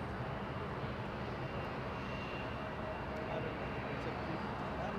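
A SkyWest airliner arriving at Los Angeles International Airport after a flight from San Francisco, heard as a steady, broad engine roar that holds at an even loudness for the whole stretch.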